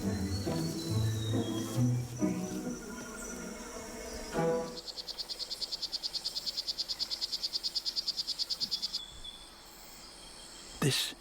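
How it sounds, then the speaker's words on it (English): A small frog in a jungle gives a fast, regular train of buzzy pulsed calls lasting several seconds, clear and fairly close, with narration-style music fading beforehand. "This is a poison dart frog."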